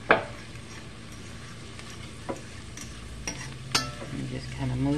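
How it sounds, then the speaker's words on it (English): Chopped garlic sizzling in a pan for cowboy beans, a low steady fry broken by a few sharp spoon scrapes and clinks against the pan, close by with no talking. "Now I'm going to add my 1 chopped garlic."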